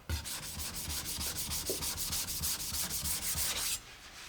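A knife blade is sharpened on a Shin Negura stone, with close, rhythmic back-and-forth rubbing strokes of steel on wet stone repeating steadily, then stopping abruptly.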